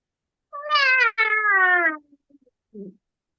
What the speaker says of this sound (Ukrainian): Мама киця з кошенятками, так?